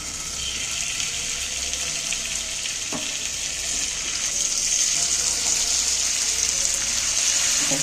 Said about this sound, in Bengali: প্যানের মধ্যে মাংস আমি এক পিস এক পিস করে সাজিয়ে দিচ্ছি